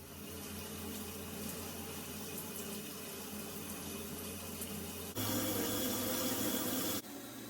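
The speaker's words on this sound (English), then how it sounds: "I'm going to try and take a shower" Water runs steadily from a shower in a steady hiss, then grows louder for about two seconds before settling back to the earlier flow.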